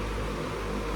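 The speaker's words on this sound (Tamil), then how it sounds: "இப்போ ஃபேன் ஓடிட்டு இருக்குது" An electric fan runs in a room as a steady, even broadband whoosh with a low hum, constant and unbroken throughout, with no voices.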